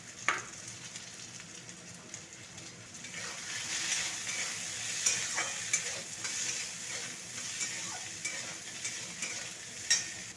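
Fried okra and potato pieces go into a hot pan with a pinch of turmeric, setting off a steady sizzle broken by repeated scraping stir strokes. The sound is close and moderately loud, with nobody talking.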